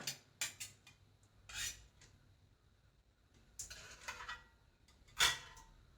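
Spoon scraping thick Ashoka flower lehyam out of a traditional uruli into a clean bowl: a few sharp metallic clinks and scrapes spaced irregularly, close and clear, with quiet gaps between.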